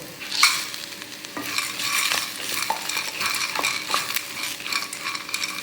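Onions and green chillies frying in a pan for a chutney, a steady close sizzle with scraping stirs and occasional clinks of a utensil against the pan, no voices.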